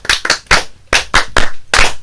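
Seven crisp, close hand claps in a loose, uneven rhythm, loud and clear with no talking.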